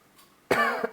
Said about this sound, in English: I have this seasonal cough